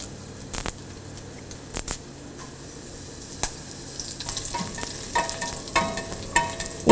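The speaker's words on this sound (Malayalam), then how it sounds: "ഫ്ലെയിം ഓഫ് ചെയ്തതിന് ശേഷം ഇതിലോട്ട് നമ്മൾ മുറിച്ച് വെച്ചിരിക്കുന്ന വറ്റൽമുളകും നമ്മൾ എടുത്തു വച്ചിരിക്കുന്ന കറിവേപ്പിലയും കൂടിയിട്ട് വഴറ്റുക." Dried red chillies and curry leaves stirred with shallots in a hot pan with the flame off: a low sizzle runs under sharp scraping and rustling strokes that come in uneven bursts.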